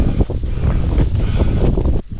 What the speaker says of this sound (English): It's a proper little snowstorm up here.